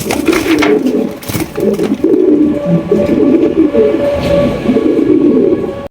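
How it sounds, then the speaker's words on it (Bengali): A pair of black Siraji pigeons, one male and one female, coo in low, throaty phrases close by, repeating for several seconds. A faint background rumble runs beneath the calls, and no one speaks. "একজোড়া ব্ল্যাক কালারের সিরাজি কবুতর"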